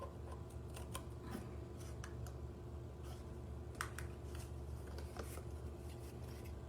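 Scissors snipping a slit into paper for a children's craft, a series of light, quick clicks and cuts over a steady low background hum, faint and close, with no voices.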